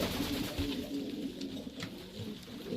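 Bukhara pigeons coo softly in a loft, a low continuous murmuring of several birds with faint wing and shuffling noises in the background.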